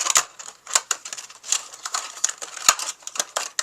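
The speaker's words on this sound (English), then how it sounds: "Now let's fold in our flaps." Flaps of an embossed clear plastic box are folded in, making a quick series of sharp, crisp plastic clicks and crinkles, close and fairly loud, with no talking.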